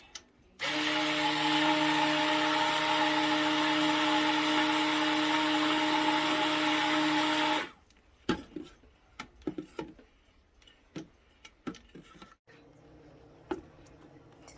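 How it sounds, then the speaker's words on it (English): A stick blender mixing hot process soap whirs steadily for about seven seconds, loud and close, then stops, followed by scattered clicks and light clatter. "You don't want to stick blend too long because you don't want to burn out your stick blender."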